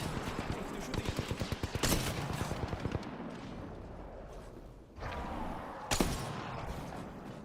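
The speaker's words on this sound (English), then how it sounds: "They're shooting at me." Rapid bursts of automatic gunfire in Apex Legends on the World's Edge map, a fast rattling volley followed by scattered single shots and a sharp crack later, all fairly close.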